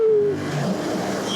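A Triumph Street Cup motorcycle accelerates hard, its engine note climbing steadily from a loud start into a sustained, rising roar over about a second and a half.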